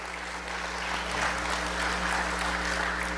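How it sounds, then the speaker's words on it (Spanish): A church congregation claps together in steady, continuous applause during a sermon, a dense, even patter heard from a moderate distance over a faint low hum. "Dale un aplauso al Señor por esto."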